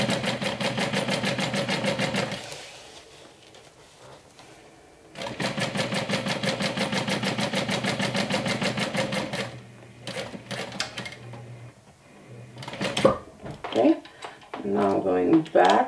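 Sewing machine basting a long seam on a glow-in-the-dark turned backpack and crossbody bag, running fast and steady in two bursts with a pause between, then shorter stitching and handling noises near the end.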